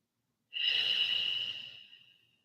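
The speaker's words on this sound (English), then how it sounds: "Relax your jaw. Big exhales." One big, breathy exhale during a calming yin yoga session, starting abruptly after a half-second of silence, close and airy, holding steady for about a second before trailing off to quiet.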